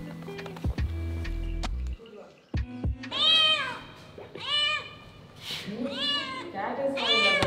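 A cat meows repeatedly up close, a series of distinct drawn-out cries in an irregular rhythm, following some brief clicks and tones.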